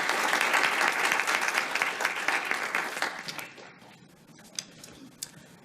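An audience claps to welcome a speaker onto the stage at a community conversation on immigration, a full steady round of applause that fades after about three seconds into a few scattered final claps.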